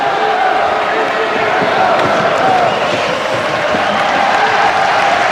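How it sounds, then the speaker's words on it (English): A packed ice hockey arena crowd roars continuously, a dense, loud wash of cheering and noise that stays thick and sustained throughout. "The crowd are already on their feet around this arena. The noise is building."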